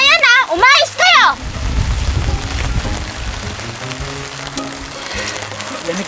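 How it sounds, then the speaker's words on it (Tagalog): Heavy rain pours in a steady, dense hiss that fills the scene, with a brief burst of a voice over it at the start. "Lakas ng ulan."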